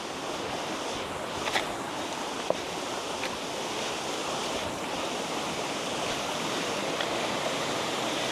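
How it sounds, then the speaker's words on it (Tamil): A forest waterfall at Kurangani in Tamil Nadu roars steadily and close by. The dense, unbroken rush of water fills the whole stretch with no voices. "பாருங்க அருமையான அருவி இருக்குது, காட்டுறேன் உங்களுக்கு."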